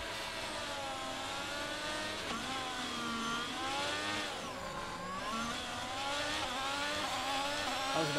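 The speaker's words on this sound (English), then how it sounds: "Right, feed in the throttle, let's build the revs." Race car engine in the F1 22 video game revving up at the race start, a continuous high, wavering whine with layered harmonics that rise and dip several times, steady and fairly close.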